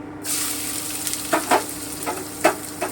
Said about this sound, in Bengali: এবারে আমি কুচনো পেঁয়াজটা দিয়ে দিচ্ছি